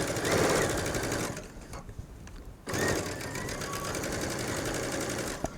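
A sewing machine stitches around a faced V-neck neckline at a 2.5 stitch length with a fast, rattling mechanical chatter. It runs, pauses briefly near the middle, then resumes and continues steadily to the end, close and fairly loud.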